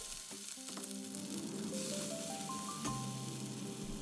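Cherry tomatoes sizzling in hot olive oil with garlic pieces, a steady close frying hiss throughout with faint tonal scraping on top.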